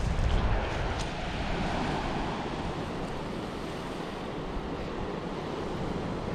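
Surf washes onto a gravel and stone beach at Lau Lau Bay on Saipan, a broad continuous rush of waves mixed with wind buffeting the microphone, with no voices.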